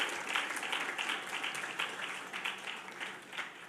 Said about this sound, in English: let us applaud Ms. Malzer